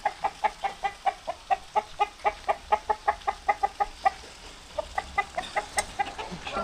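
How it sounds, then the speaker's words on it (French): Large caged roosters, startled, let out a rapid run of sharp clucks in a fairly regular rhythm, loud and close, easing briefly before another flurry. "Je suis en train de leur faire peur."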